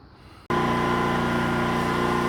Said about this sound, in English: I'm exercising the generator today.